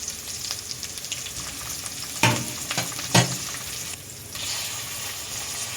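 A single garlic clove sizzles in a pan for shrimp soup, a steady bright frying hiss broken by two sharp clatters as the pan is stirred.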